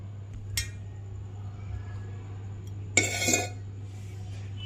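Cucumber chutney ingredients mixed in a bowl give a few faint scattered clinks and one brief cluster of spoon-on-dish scraping, over a low steady hum.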